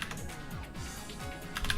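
Quick, light keystrokes on a computer keyboard, a short run of even taps close by, soft and steady.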